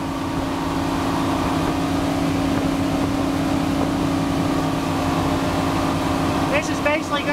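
A 1989 Mako 261 boat cruising at 3,000 RPM while planed out at about 20 knots: a steady, loud engine drone with rushing water noise throughout, and a voice briefly heard near the end.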